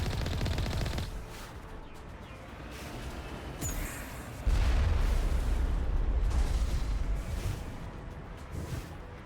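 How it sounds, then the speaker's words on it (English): Heavy artillery and automatic gunfire in a Mass Effect battle: a steady rumble of distant fire, then a loud booming surge of blasts that continues as a sustained, powerful barrage. "We must find a way to disable their artillery."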